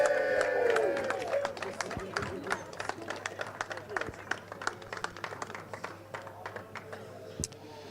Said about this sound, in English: we're going to be giving all of our marshals and medics a huge round of applause